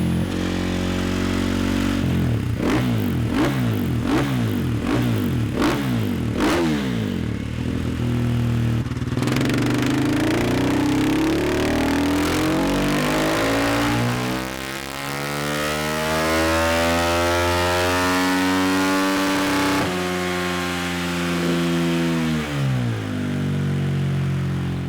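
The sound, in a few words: motorcycle engine revving on dyno with Vortex box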